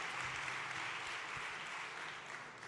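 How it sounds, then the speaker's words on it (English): Audience applause rings out at a VivaTech talk as SAP's Bill McDermott is welcomed to the stage, a dense, steady clapping that holds loud and even throughout, with no voices over it. "let's give Bill a big round of applause, please"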